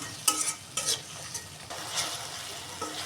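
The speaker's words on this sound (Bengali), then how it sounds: "মশলাগুলো আমার সুন্দর করে কষানো হয়ে গেছে একদম মশলা থেকে তেল উঠে আসছে" Spices being sautéed and stirred in a pan for a light potato, pointed gourd and fish curry, with soft sizzling and a few close scraping stir strokes, no talk.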